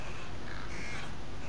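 Crows caw in the stealth video game Thief, harsh calls ringing over a steady, noisy ambient background in a short burst, with no speech.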